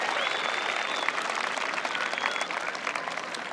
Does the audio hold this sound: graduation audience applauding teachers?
yes